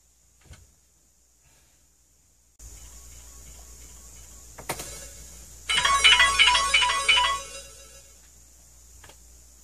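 A phone ringtone sounds indoors at home, a repeating electronic melody that swells loud over a few seconds, preceded by faint handling and rustling noises.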